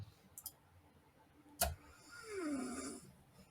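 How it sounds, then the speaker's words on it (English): Someone snores nearby at a gaming session, one drawn-out, rasping breath rising and falling over quiet room noise, with a sharp click just before it. "Somebody's snoring. I can hear them."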